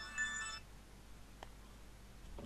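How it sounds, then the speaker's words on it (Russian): A telephone rings indoors during a group Bible study session. A short, clear electronic ringtone sounds once at the very start, then gives way to a quiet room. "О, телефон там звенит."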